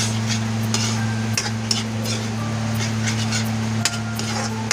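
Chicken intestine sisig cooking with onions and liver spread, sautéed in a pan: a continuous sizzle with scattered scraping and clinking of a utensil against the pan, fairly close and steady, with a low hum underneath.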